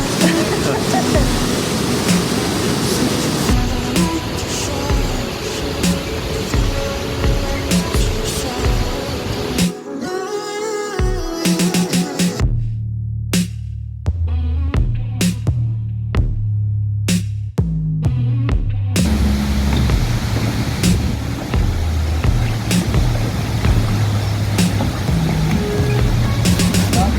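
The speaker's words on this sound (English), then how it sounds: "So this is the Ouzoud waterfall" Ouzoud waterfall in the Atlas Mountains of Morocco roars as a loud, steady rush of falling water, broken midway by a brief quieter stretch, with people talking nearby.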